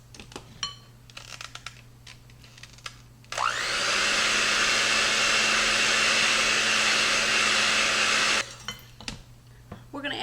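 An electric mixer whirs loudly and steadily for about five seconds as it blends buttercream frosting with milk for a butter pecan cake, starting and stopping abruptly, with quiet kitchen clatter before and after.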